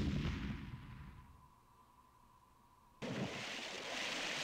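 Explosion sound effect from a ship sinking in the Battleship video game on the Philips CD-i, a loud broadband blast fading into a low rumble before a second abrupt burst cuts in.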